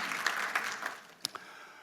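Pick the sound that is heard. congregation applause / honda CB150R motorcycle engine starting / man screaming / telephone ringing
congregation applause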